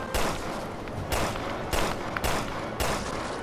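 Gunfire in the video game Resident Evil Revelations 2: a run of about five loud, broadband shots fired at a steady pace, each burst ringing into the next, with no talk over it.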